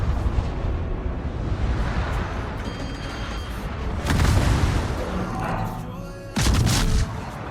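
In World of Warships, a warship fires its guns at the Vermont, heavy booming salvos landing in bursts, including two loud blasts near the middle and end, over constant engine and sea rumble.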